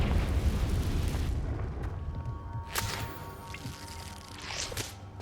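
In the Hogwarts Legacy video game, a Confringo fire spell goes off with a fairly soft, rumbling burst, followed by sharp crackling pops and a fading roar.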